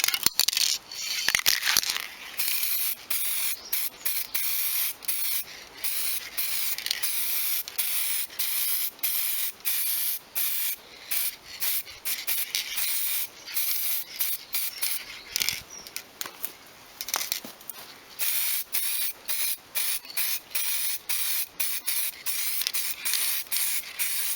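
An aerosol can sprays coats of paint onto DIY four-branch exhaust headers for a Nissan CA18 engine, giving a close, steady hiss in repeated bursts with short breaks between them.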